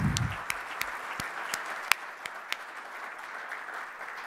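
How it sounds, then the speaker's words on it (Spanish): Audience at a national seminar for school directors applauding, a sustained wash of many hands clapping indoors with a few sharper individual claps, fading slightly toward the end. "creo que todos queremos, y darle un aplauso a la Pilar, a la Angélica, a la Elizabeth."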